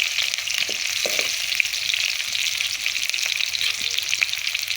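Onions fry in hot oil with sweet panch phoron and nigella seeds, a dense, steady sizzle running close and continuous with faint crackles and no talking.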